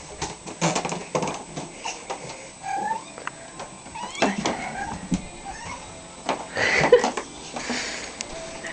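A pet kitten meows and sniffs close by, with short bursts scattered through a stretch of soft shuffling and handling noise; a person murmurs briefly in between.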